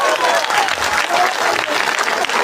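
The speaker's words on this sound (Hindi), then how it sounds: "जोरदार तालियां बजाता भाई।" Loud, dense applause from a crowd at a Ramlila performance, steady clapping throughout with a few voices mixed in.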